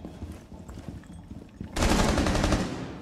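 Rapid automatic gunfire bursts loudly in a Rainbow Six Siege match after a quieter stretch of game ambience with footsteps and faint clicks.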